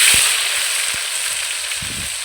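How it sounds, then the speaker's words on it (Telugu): Oil sizzles steadily in a hot kadai over a village-style fire, a bright continuous hiss close by with a few faint knocks and clinks, and no talk. "కడాయి వేడెక్కింది నూనె పోసుకుంటానా"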